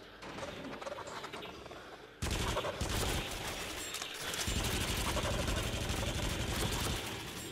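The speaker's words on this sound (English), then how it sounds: "I have a machine gun, or a minigun." A minigun blasting in the Rush of Blood VR shooter: after a softer stretch of gunfire, a loud, dense, unbroken roar of rapid shots kicks in abruptly and keeps hammering to the end.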